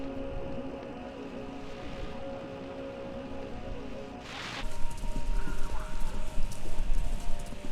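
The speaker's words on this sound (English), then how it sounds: "Sounds like horses. Horses running a race." Rapid hoofbeats of horses galloping in a race in the video game Kentucky Route 0 pound steadily under a rainy hiss, with a sharp burst midway after which the drumming grows louder and denser.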